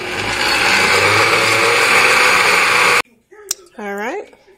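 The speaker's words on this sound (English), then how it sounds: "And get my blender going." A kitchen blender runs loud and steady for about three seconds while mixing hair conditioner, then cuts off abruptly, followed by a brief voice.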